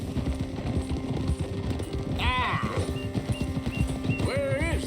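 Horse hooves clip-clopping in a steady rhythm in the Red Dead Redemption 2 video game, with a couple of whinnies riding over the hoofbeats and voices talking underneath.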